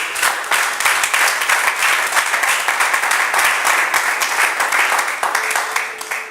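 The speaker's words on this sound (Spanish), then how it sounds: "le pueda dar un fuerte aplauso de bienvenida a todos nuestros televidentes" Church congregation clapping in loud, dense applause of welcome, sustained evenly throughout with no voices over it.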